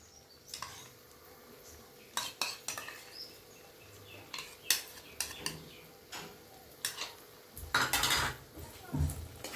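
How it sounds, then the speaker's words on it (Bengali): Yogurt being stirred into fish curry spices in a pan over low heat for a Bengali rui or kalbosh fish kalia, with scattered metal spoon scrapes and clinks against the pan and a soft sizzle, no talking. "এবার টক দই মশলার সাথে ভালো করে কষিয়ে নেব।"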